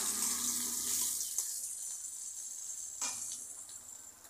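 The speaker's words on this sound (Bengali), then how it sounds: "এবার আমি ফোড়ন দিয়ে দিচ্ছি গরম মশলা, থেতো করা 1টা শুকনো লঙ্কা, 2টো তেজপাতা আর গোটা জিরে।" Whole garam masala, a crushed dried red chilli, two bay leaves and cumin seeds crackle in hot oil, a steady hiss with a couple of brief pops, alone and close.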